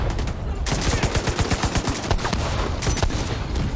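Gunfire in The Division 2 during a Capitol Building stronghold mission: a dense fusillade of overlapping shots and bursts, loud and close, firing steadily throughout with no pause.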